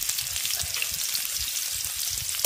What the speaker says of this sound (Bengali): এবার পেঁয়াজ আর লঙ্কাটাকে হালকা করে আগে একটু ভেজে নেব।